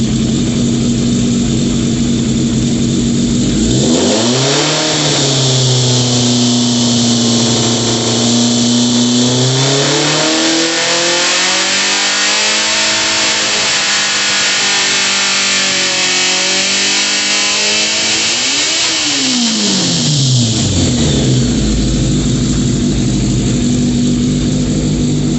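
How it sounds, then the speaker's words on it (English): A modified riding mower engine revs while the mower sits up on a jack. The steady mid-pitched motor whine rises, then sags and winds back down and up again, continuous and close. "that's basically the differential of the motor decelerating while the wheels are still trying to push forward"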